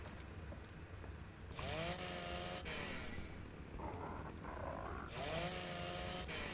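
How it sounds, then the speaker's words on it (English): Chainsaw in the survival game Ark: Survival Evolved, a steady buzzing engine drone that revs up in two loud bursts, rising and falling in pitch, close and continuous throughout. "I've never had the chainsaw before"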